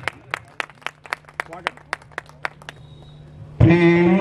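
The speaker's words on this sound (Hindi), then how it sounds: "एक बार तालियां बजाइए फिर से।" Steady, evenly spaced claps ring out one by one, sharp and clear, before music with a voice abruptly takes over.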